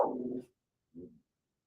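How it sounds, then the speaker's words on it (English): A dog gives two short growly barks or vocalizations, the first longer and louder, the second brief and softer, close by with silence between. "Ray, stop barking."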